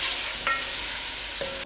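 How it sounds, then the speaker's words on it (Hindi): Chicken pieces sizzling steadily in hot oil over a medium flame, a continuous loud frying hiss with a couple of brief clicks of a utensil stirring the pan. "चिकन को हम ऑयल में अच्छे से पकाएंगे उस वक्त तक जब तक इसका कलर जो है वो वाइट नहीं हो जाए"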